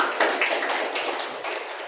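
A workshop audience for a Master of English Education program applauds Dr. Raqib Chowdhury, giving a steady, moderate patter of clapping that fills the short moment without any talk.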